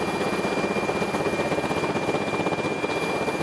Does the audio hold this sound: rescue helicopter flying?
yes